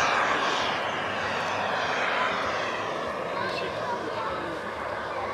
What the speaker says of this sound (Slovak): Teraz troška menej budem rozprávať, lebo je to tichý model, aby počul motor.